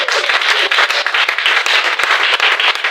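A church congregation applauds together in sustained, rhythmic clapping, loud and close, with scattered voices blending into the steady patter.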